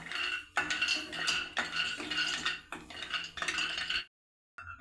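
Cashews and almonds dry-roasting in a pan rattle and clink in several bursts of stirring, fairly close, with a short silent pause near the end and no talk.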